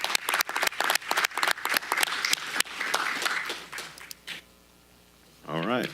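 A round of applause at a Sutter County Supervisors regular meeting, a few seconds of close, brisk clapping from a small room that thins out and stops, with a voice starting up at the end.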